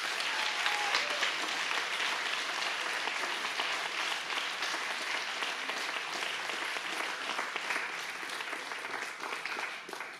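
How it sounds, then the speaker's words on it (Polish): Sustained, loud applause from a large audience at an awards gala, steady clapping that fills about ten seconds and eases slightly near the end. "ogromne brawa dla uczestników!"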